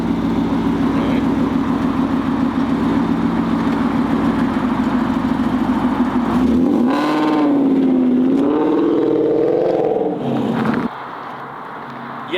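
A BMW X4M with tuned downpipes idles with a steady low drone, then revs up loudly and holds a high, rising engine note before dropping back, heard up close with no talk.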